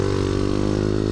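Steady, buzzing engine drone from a supermoto pit bike on a track day, held at an even pitch and close, with no talk.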